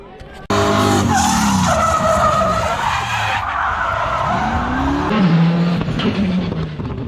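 Rally and drift cars at a demo day tear around close by, engines revving hard with rising and falling pitch and long continuous tire skids, loud throughout with no talk.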